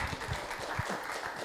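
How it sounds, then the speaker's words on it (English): Audience applause at a lunch-and-learn gathering, a short burst of many hands clapping in a room, steady and fairly even throughout. "let's give Lori and Jermaine a round of applause."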